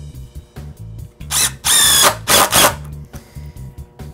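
Power drill driving fasteners to attach OSB blocking to wall studs, heard as several short whirring bursts with a longer high-pitched run in the middle, close and loud, with no one talking.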